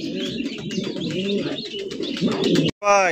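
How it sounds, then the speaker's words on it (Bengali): Pigeons on a pigeon farm coo and warble in close, overlapping calls, with a brief gap near the end followed by a clear, ringing chirp. "ভাই রোমান গালের কবুতরের কালেকশন দেখতে পাচ্ছেন"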